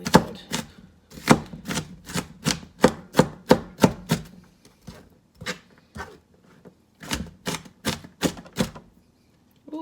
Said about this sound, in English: Chop it really good.